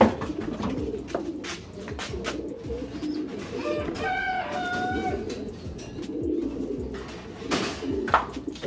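Caged pigeons coo softly and repeatedly at close range during a basic breeding-pair setup, their low throaty calls rising clearly mid-clip over a steady background of rustling and shuffling.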